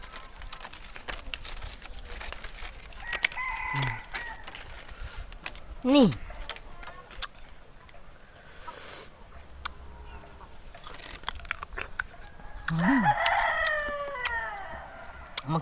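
A rooster crows several times at moderate distance, the rising calls standing out over a dim background while people chat nearby.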